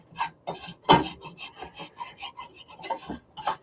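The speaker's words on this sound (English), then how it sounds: "I'm going to scrape up some of this brown butter to the edge." A utensil scrapes brown butter across a hot pan in a series of quick, rasping strokes, close and fairly loud, with no talking.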